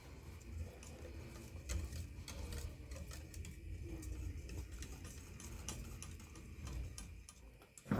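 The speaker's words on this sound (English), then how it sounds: "whisking this for 3 minutes" A whisk works milk into a bechamel sauce in a pot, making a fast, soft, continuous ticking and scraping that stays faint and steady throughout.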